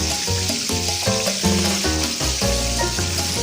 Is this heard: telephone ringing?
no